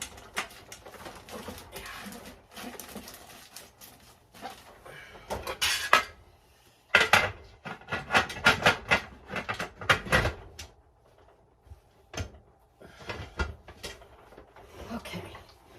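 An All-American pressure cooker lid is rotated to lock it, giving a run of close metallic scrapes, clanks and knocks in irregular bursts, with quieter pauses between.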